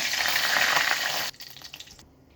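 Bay leaves and a cinnamon stick hit hot oil in a pan with a loud, bright sizzle that drops sharply after about a second, leaving quieter crackles and stirring before fading out.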